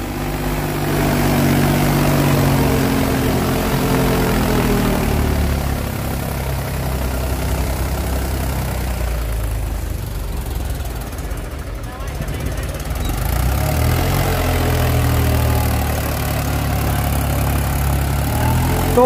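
A Mahindra Bhumiputra farm tractor engine runs steadily in a low, heavy diesel rumble with a slight dip and recovery midway, loud and close, while someone talks over it.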